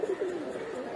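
Pigeons in a loft give a low, rolling coo, close and steady, repeating throughout a brief moment with faint background noise.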